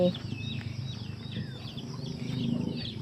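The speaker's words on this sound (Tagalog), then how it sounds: "yan mga manok pasaway na mga manok yan" Chickens cluck faintly in the distance over a low, steady background hum, with occasional higher bird calls.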